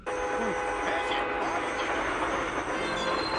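Train rumbling steadily in a commercial, a constant close rolling noise with faint tonal squeals, fairly quiet throughout.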